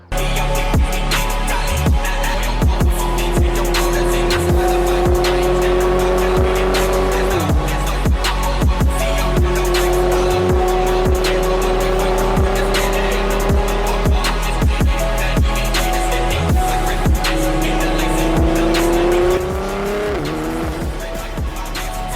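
A Nissan R35 GT-R drives hard with its engine roaring loud and close, while the tires squeal in long drawn-out skids that rise and fall across the run.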